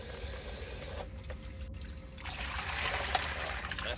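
Water running and trickling while a kettle is rinsed out, a steady splashing flow that briefly thins and then swells louder again, close by with no talk.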